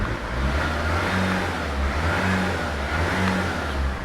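A Mercedes Sprinter CDI diesel engine, fitted in a classic Mercedes campervan, runs at a steady, low, held rev around a thousand rpm, with a close, continuous rumble and no voices.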